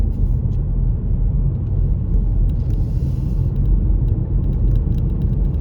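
A car in third gear holds a steady speed of about 30 on the A20 Port of Ferry Road during a Northern Ireland driving test. Loud, continuous low engine and road rumble from inside the cabin, with no talking.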